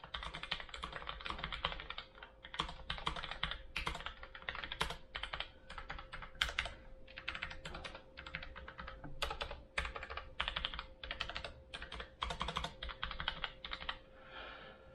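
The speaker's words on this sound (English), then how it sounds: "this one is the tactile quiet, so the brown switches." Close, continuous typing on a Logitech MX Mechanical Mini keyboard with tactile quiet brown switches: a quick, uneven patter of soft muted keystroke clicks with occasional heavier thumps, with no voice.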